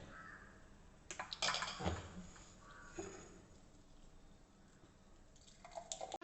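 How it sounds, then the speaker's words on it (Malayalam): Freshly blended juice poured out into a glass, a few splashy gurgling bursts early on, then a faint trickle, quiet and close with no talking. "ഇനി നമുക്കിത് ഒഴിച്ചു കൊടുക്കാം."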